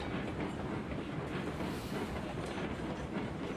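A train rolls steadily in the video game Railroads Online, a loud, dense rumble of wheels and rail clatter sustained throughout without pause.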